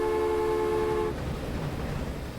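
Train horn from Transport Fever 2, a steady multi-tone blast that holds for about a second and then cuts off, leaving the low rumble of a rail train waiting in traffic.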